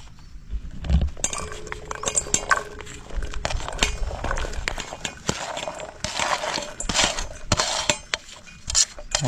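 Chopped onions tumble into a metal pan with clinks and rattles of utensils while making egg paniyaram gravy, a busy clattering close by, with no one speaking.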